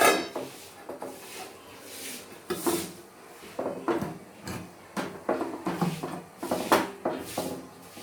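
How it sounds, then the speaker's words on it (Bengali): A lid is set over a pot holding water with a stand inside for steaming. A run of close knocks, scrapes and clatters of metal on metal comes in irregular bursts, with no talking. "এবার আমি এটা ঢাকা দিয়ে দিলাম।"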